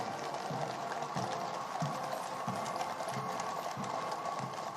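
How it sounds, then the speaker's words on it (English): Windsor Grey horses pull a carriage in the coronation procession at Buckingham Palace, their hooves clip-clopping in a slow, regular rhythm beneath a loud, steady crowd and street wash. "These enormous horses."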